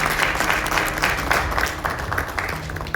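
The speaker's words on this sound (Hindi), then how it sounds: "तालियां हो जाए नीलम आपके लिए।" An audience at a health and network-marketing event applauds, a continuous loud wash of many hands clapping in a reverberant hall with a faint low hum beneath, steady across the whole stretch.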